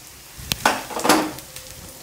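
Finely chopped bottle gourd added to a hot pan while cooking sambar, with a soft sizzle, a few sharp clinks of a utensil against the pan and scraping stirs, close and unaccompanied by talk.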